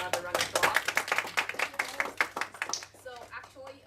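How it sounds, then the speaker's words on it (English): A small Toastmasters meeting audience claps in a quick, close burst of hand claps that thins out toward the end, with voices murmuring underneath. "So let's give her another round of applause."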